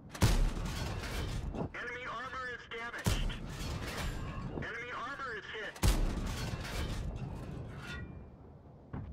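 Tank cannon shots in a tank video game featuring the Foch B, three heavy booming blasts spaced several seconds apart, loud and close, with rumbling tails and mechanical whines between.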